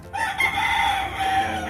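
Pet chickens and a rooster cluck and call close by in a continuous run of fowl sounds with no talking.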